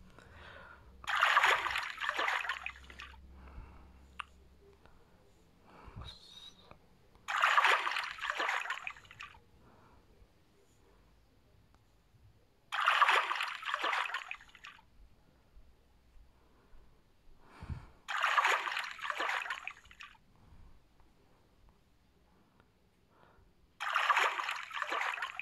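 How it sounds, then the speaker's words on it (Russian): Sea waves on the Baltic Sea splash in the fishing game Let's Fish, five soft, evenly spaced washes of surf rolling in about every five seconds, with quiet lulls in between. "звуки волн немножко мешают"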